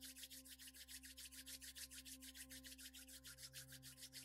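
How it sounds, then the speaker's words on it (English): Palms rubbed together briskly and steadily, a close, continuous rhythmic swishing of skin on skin with about seven strokes per second and no talking, set over a faint low steady hum. "rub the palms together briskly until you feel heat"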